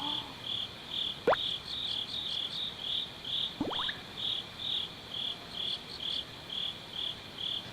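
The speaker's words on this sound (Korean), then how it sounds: "들리는 귀뚜라미 소리가 극동 귀뚜라미예요." A Far Eastern cricket chirps in steady, evenly spaced pulses, a continuous rhythmic trill heard close and alone, with a couple of brief swishing sounds passing through.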